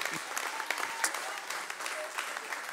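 Audience in a church or congregation gathering clapping steadily for a newly married couple, a dense, even patter of applause filling the space at moderate level with a few sharper claps and faint voices mixed in.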